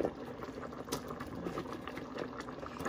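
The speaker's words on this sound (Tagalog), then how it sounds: "ilalagay ko na yung sayote" Chayote goes into a simmering coconut-milk chicken stew, with a steady bubbling and soft liquid sloshing that runs on continuously at close range.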